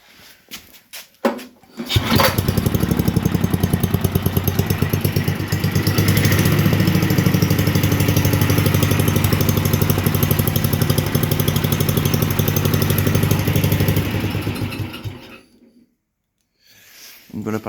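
A small tiller (motoculteur) engine with a freshly fixed carburettor pulled to start, catching after a couple of tries and then running at a steady, loud, clattering idle for about thirteen seconds before cutting out.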